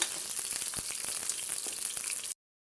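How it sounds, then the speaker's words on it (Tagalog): Onions sauté in a hot pan, a close, steady sizzle broken by a few soft clicks and scrapes of stirring, with no voices. "Gisa-gisahin na natin at haluin na mga idol para siya lumasa"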